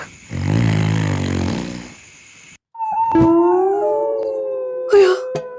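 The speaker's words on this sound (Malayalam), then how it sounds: "ഈ പട്ടിയൊക്കൊന്നും ഉറക്കമില്ലേ?" Dogs howl at night in long, drawn-out wavering cries that rise and trail off, loud and fairly close, with a brief rougher burst near the end.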